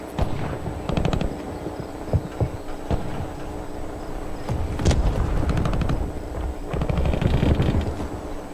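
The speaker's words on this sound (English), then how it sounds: "Using hand cannon" Hand cannon gunfire in a video game, heard as repeated sharp, punchy shots over a dense, steady bed of battle noise, with a few heavier blasts standing out.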